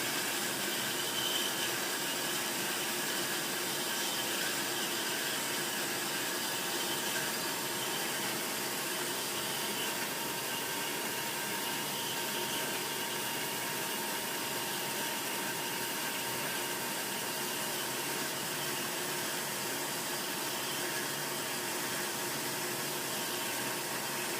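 Metal plate is cut with a constant, loud, broadband hiss and roar that holds steady for the whole stretch without a break, and no one speaks over it.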